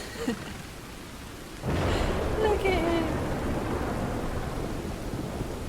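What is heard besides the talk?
rain and thunder in the video game Red Dead Redemption 2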